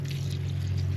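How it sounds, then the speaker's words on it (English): Green water pours steadily into a container as it fills up, a continuous close gurgling flow with a low hum underneath and no talking. "get some of this nice green water, letting it fill up"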